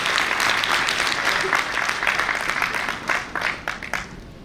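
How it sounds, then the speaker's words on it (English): An audience at a fashion evening honoring designer JJ Valaya breaks into a big round of applause, dense clapping that holds strong before thinning and tapering off toward the end. "Can we have a great big round of applause, please?"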